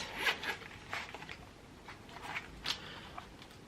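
A zipper on a River Island bag is drawn in several quick, close rasping pulls, quiet and alone against a faint background.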